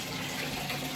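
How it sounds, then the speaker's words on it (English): Hot well water runs from a tap into a bathtub, a steady, loud, close rushing pour with no pauses or voices. "I'm filling up the tub."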